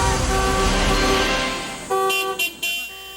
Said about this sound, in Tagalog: Bumusina bilang protesta ang grupo ng deactivated Grab drivers